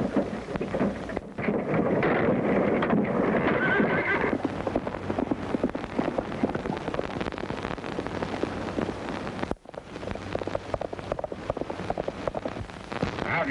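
A horse in a 1932 adventure serial neighs and its hooves clip-clop over steady rain-like noise, loud and continuous throughout with a brief dropout near the end.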